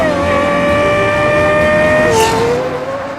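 A 2023 Lexus IS500's V8 engine and exhaust drone loudly and steadily from close by, its tone holding level before dropping and then climbing again near the end.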